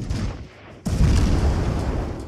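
A World of Warships cruiser fires a naval cannon in the video game: one sudden loud boom that swells into a long rumbling roar over a wash of sea and engine noise, with no voices.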